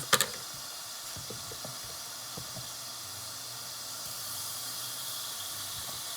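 Butter sizzles in a pan with a steady, soft hiss, opening with a couple of sharp knocks and scattered faint taps.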